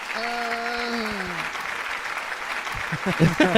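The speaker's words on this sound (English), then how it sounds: "Let's give her a round of applause for being the babe of the week." A few people clap in a small room for a podcast's babe of the week, the thin clapping sitting under a sung or drawn-out voice before a burst of closer, louder claps at the end.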